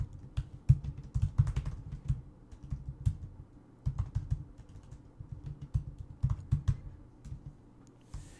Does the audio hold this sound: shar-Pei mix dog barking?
no